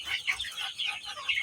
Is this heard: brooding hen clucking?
yes